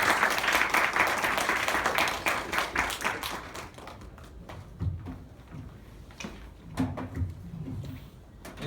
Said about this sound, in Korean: 그 상황을 멋지게 해주신 박성호 대표님께 큰 박수로 한번.